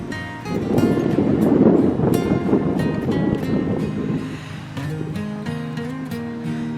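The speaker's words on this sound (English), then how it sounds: "It's freezing! Such a cold wind." Cold wind roars across an open winter moor, buffeting the microphone in a loud, continuous rush that swells and eases, with a low tonal hum appearing near the end.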